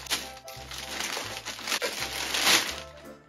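A crinkly plastic Shein parcel holding wigs is torn open up close, giving loud, continuous crinkling and crumpling with brief rustling bursts.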